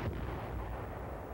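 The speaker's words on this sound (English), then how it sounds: "they get protective fire from 7th Division artillery and a hot reception from the enemy" Supporting fire from 7th Division artillery near tanks in Korea makes a dense, continuous rumbling roar, loud and steady, with no distinct separate bursts.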